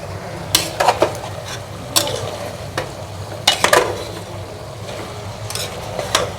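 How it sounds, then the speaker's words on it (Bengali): Mutton frying with ginger-garlic paste for bhuna gosht sizzles steadily in a pan while a utensil scrapes and stirs in repeated bursts, with metal clinks against the pan. "দিয়ে এবার আমি ভালো করে কষিয়ে নেব।"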